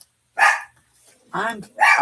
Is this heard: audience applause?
no